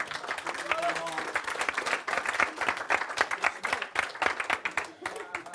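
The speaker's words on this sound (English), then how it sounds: "Give yourself a round of applause" Crowd applause for hypnotherapy business folks, a lively burst of clapping that runs throughout, with talking heard over it.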